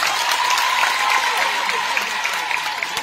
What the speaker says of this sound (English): I beg, clap for yourself.